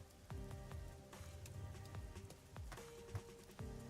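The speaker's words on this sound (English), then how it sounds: "Only the rain." Rain falls in a quiet game scene, with soft patter and scattered drips over a faint background tone and occasional brief thuds.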